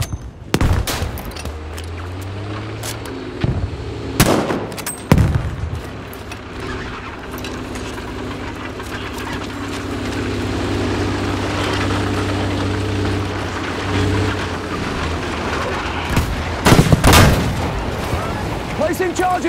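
Grenade blasts and bursts of gunfire in a Battlefield V battle, with several sharp loud explosions and rapid shots over a steady rumble of vehicles and background combat noise.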